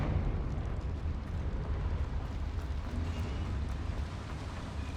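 A Confringo fire spell blast in Hogwarts Legacy, heard as a dense, roaring rumble that holds steady and loud for the whole stretch without a break.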